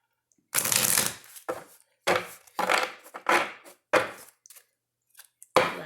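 Tarot cards shuffled by hand in a series of quick riffling bursts, several separate shuffles with short pauses between, close and crisp with no talking.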